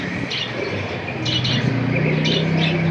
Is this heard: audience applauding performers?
no